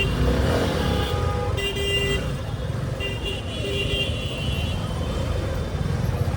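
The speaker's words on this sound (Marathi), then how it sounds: "काय इकडे ट्रॅफिक आहे." Dense road traffic in Dombivli with a steady broadband rumble of engines, a few horn toots sounding from mid-distance, and faint voices in the background.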